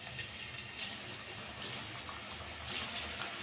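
Onion pakoda batter, scattered loosely into heated oil in a pan for roadside-style fritters, fries with a steady crackling sizzle that flares in a few brief bursts; no one speaks.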